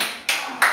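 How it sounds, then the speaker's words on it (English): Two sharp, loud hand claps about a third of a second apart, given in praise during a church service, each a bright broadband burst with a short ringing tail in the room. "give God a hand clap of praise"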